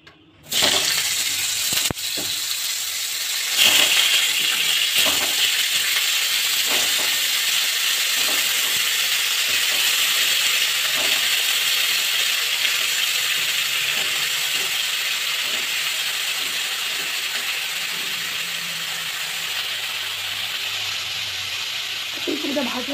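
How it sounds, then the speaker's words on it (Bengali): Cauliflower fries in hot mustard oil with a continuous bright sizzle and hiss after a sharp start, with scattered clinks and a voice speaking now and then over the frying. "তো চলো ফুলকপিটা এখানে ভাজতে দিই।"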